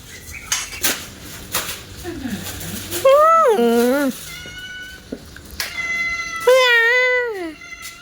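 A cat meows loudly in long rising-and-falling cries, twice, against clinking cutlery and dishes at a family meal at a forest cooking camp, with people talking nearby.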